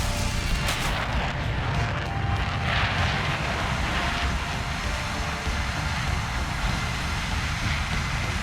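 A loud, continuous roar comes from an A-10 jet's engines in the War Thunder air-combat video game. It is dense and steady throughout, with faint rumbling blasts mixed in and no voices.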